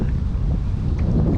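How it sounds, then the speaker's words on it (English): Strong wind gusts buffet the microphone while kayaking on the Murderkill River at Killens Pond, a loud continuous low rumble with no talk. "the wind is really picking up"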